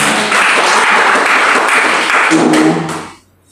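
Congregation clapping at a worship service held in an apartment complex in Jakarta, a dense, steady patter of many hands that fills the room, then cuts off and fades to near silence at the end.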